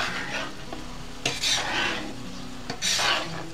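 Paprika being stirred into shakshuka with sausages in a skillet over a campfire: steady sizzling with repeated scraping stir strokes, two louder bursts of clattering pan contact, close and without talk.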